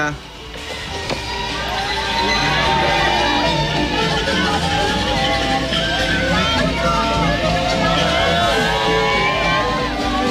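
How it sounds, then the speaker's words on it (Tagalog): Excited crowd cheering and shouting to welcome Pope Francis inside Malacañang Palace: a loud, continuous roar of voices, whoops and yells that holds steady throughout, with a dense layer of babble. "patuloy pa rin po ang hiyawan ng ating mga kababayan sa pag-welcome sa ating Santo Papa sa loob mismo ng Malacanang."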